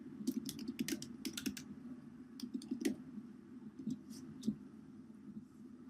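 A computer keyboard types out a search in quick, light clicking bursts with short pauses, steady and close against a faint background hum.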